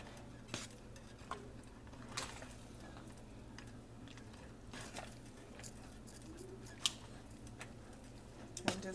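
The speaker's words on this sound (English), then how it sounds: "I'm just gonna stir all of these together." Mac and cheese being stirred together with seasonings and grated cheese, heard as faint, sparse clinks and soft scrapes of a utensil against a pot over a quiet kitchen background, with no voices.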